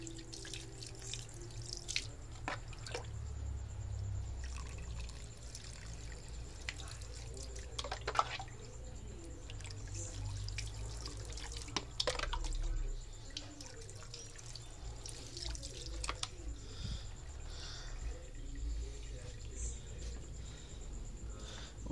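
Live water fleas rinsed in a net under plenty of water, giving a steady trickle with scattered drips and splashes that continue for the whole stretch at a moderate, fairly close level.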